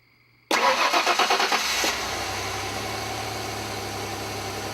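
A rebuilt 1992 Ford Ranger engine cranks with a rapid chugging starter rhythm for over a second, catches, then settles into a steady, loud idle.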